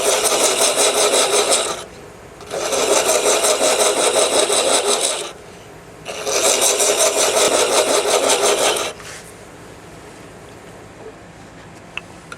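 Thread chasing on a lathe workpiece, with the cutter working the metal in three loud, steady bursts of whirring, rasping cutting, each about two to three seconds long and separated by short quieter pauses, ending in a low hum.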